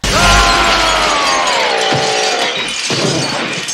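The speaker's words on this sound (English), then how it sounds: "with Freddy driving, the truck crashes" Truck crash in the horror film A Nightmare on Elm Street 5: The Dream Child, a loud sustained metallic and glassy crash with a descending screech, followed by a couple of heavy thuds and rattling debris.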